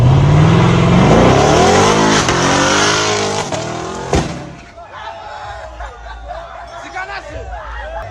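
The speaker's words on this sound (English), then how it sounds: "I just watched a video of a Corvette that was doing burnouts" Engine roar and tire screech from a Corvette doing burnouts, played back from another recording; loud and continuous for about four seconds, then dropping to a lower rumble with scattered squeals and faint chuckling, no clear speech.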